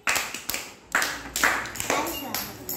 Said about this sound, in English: Clap for Ashwin.